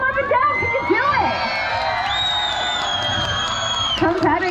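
At a live lumberjack show at the PNE, a crowd of adults and children cheers, whoops and yells continuously and loudly, with a sustained high shout riding over the roar.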